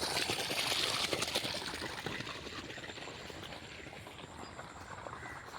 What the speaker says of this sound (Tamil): எல்லா கயனிக்கும் தண்ணி குதிக்கிற சவுண்டு கேட்குறது